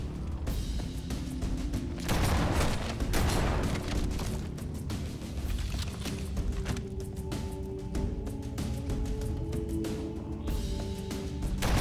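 A grenade blast in Halo: Combat Evolved on PC lands as a loud explosive burst among ongoing battle noise, with rumbling debris, scattered impacts and lingering tonal game sounds.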